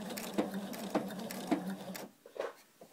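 Sewing machine running in short stitching bursts to form a zipper stop, its rapid mechanical patter pausing briefly between runs before stopping, then a few soft handling clicks close by.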